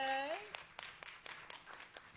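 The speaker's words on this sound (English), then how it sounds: "Give a round of applause to Antoinette Hibbler" Scattered hand claps from a small church congregation after a voice ends, irregular and fairly faint, a few distinct claps in the room marking a birthday.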